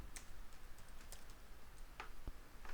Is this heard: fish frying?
no